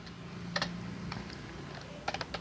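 Quick clusters of keystrokes on a computer keyboard as a comment line is typed into Python code, close and fairly quiet, with short pauses between bursts and a steady low hum underneath.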